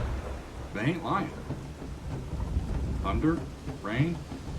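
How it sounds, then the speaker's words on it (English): Thunder and rain sound effects within a track, low rumbling swells and rain texture layered with faint percussion and murmuring voices, moderately quiet throughout. "Thunder, rain."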